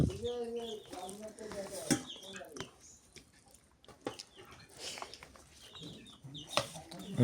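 Broiler chickens cluck in short bursts between spoken voices while eating khichuri, with scattered pecking and background chatter throughout, in a village on a winter morning.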